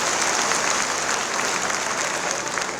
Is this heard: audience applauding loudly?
yes